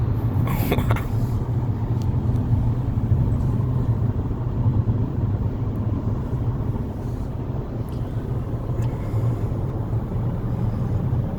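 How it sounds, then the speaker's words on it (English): A 2019 Nissan Altima accelerating on the road, heard from inside the cabin as a steady, loud low engine and road rumble that holds throughout with no talking. "Again, car very pulled away, and the car is speeding up now."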